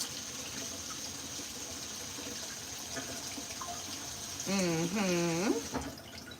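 Thyme being rinsed under a running kitchen tap. A steady, soft rush of water flows throughout, and a short, louder burst with a brief tonal squeak comes near the end.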